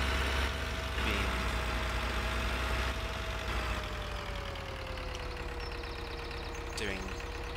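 A tractor engine idles in Farming Simulator 2013, a steady low mechanical rumble with a faint whining tone running through it, while a voice talks over it.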